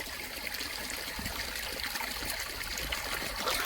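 Water trickles steadily into a pesticide sprayer pump tank being filled, a continuous close splashing flow with no talk over it.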